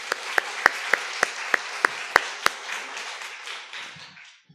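A church congregation at an evening service claps, with a few sharp hand claps in a steady rhythm over a broad wash of applause that fades out over several seconds.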